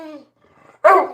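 A dog gives a short whine followed by one loud, sharp bark at close range, with a brief quiet gap between them.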